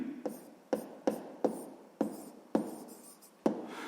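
Pen or chalk writing numbers by hand in a math lesson, heard as a series of about eight short, distinct scratchy strokes in an irregular rhythm, close and fairly clear with no talk over them.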